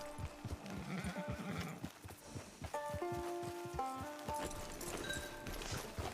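A horse in the Western video game Red Dead Online clip-clops with steady hoof beats at moderate distance, joined partway through by sustained musical tones from the game's soundtrack.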